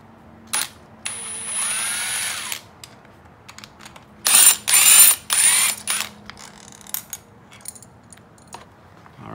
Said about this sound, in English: let's get these bolts out, get this cover off, get the chain out